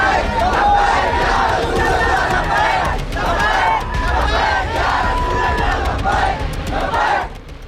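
A large crowd gathered at a police station chants slogans in loud, rhythmic unison, voices rising and falling in repeated waves for several seconds before trailing off near the end.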